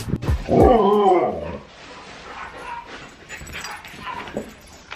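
A dog gives a loud, close whining whimper that bends up and down in pitch, then trails off into quieter breathy whines and soft whimpers.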